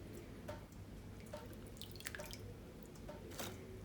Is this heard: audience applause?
no